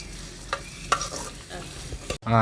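Onions and green chillies frying in a pan for a village-style drumstick curry, with faint sizzling and a few scraping stirs of a spoon, then a sudden louder burst at the end.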